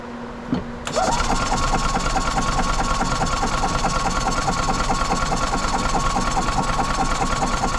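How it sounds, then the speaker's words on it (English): A 2000 Yamaha G16 gas golf cart engine that had sat for years cranks and catches, then runs with a loud, steady, rapid chugging idle. "Engine's shaking a little bit"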